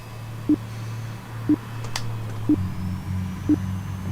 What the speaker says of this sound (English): Yeah, you're gonna hear the beeping.